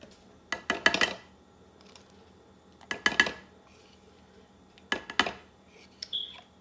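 A spoon scoops yogurt into a bowl for a hair mask, making three clustered bursts of clinking and scraping against the bowl, close and clear, with quiet gaps between and no speech.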